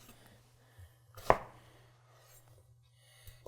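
A Shan Zu Damascus chef's knife slices through a zucchini into planks, giving one crisp, close chop onto the board amid a quiet kitchen background.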